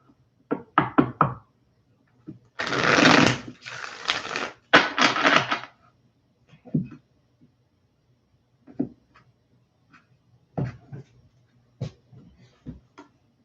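Crisp riffling bursts of tarot cards being shuffled, a few quick flutters in the middle with scattered taps and soft clicks before and after.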